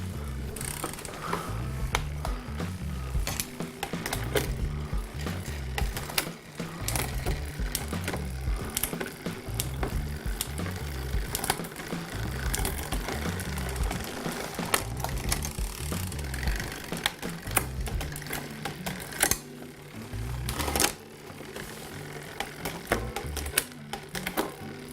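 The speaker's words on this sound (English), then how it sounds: "move the shifter just to make sure that it's moving one click" Clicking and ratcheting of a road bike's rear derailleur being shifted across the cassette sprockets, a steady mechanical clatter of pawl-like ticks running continuously and close, with no talking.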